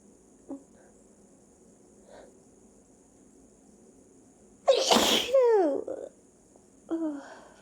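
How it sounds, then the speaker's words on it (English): A person sneezes repeatedly at close range: soft breathy catches come first, then a loud forceful sneeze with a wailing tail, and a weaker follow-up sneeze near the end. "It's almost like these sneezes aren't helping."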